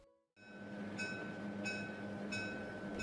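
A train car rumbling steadily along the rails with a constant low roar, joined by sharp rhythmic clacks of wheels over rail joints at about one-second intervals, with no voices.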